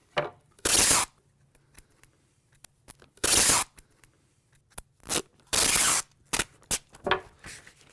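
Masking tape pulled and pressed onto a silk screen frame, several loud ripping bursts of tape unspooling with softer crinkles and taps between them, close by with no talking.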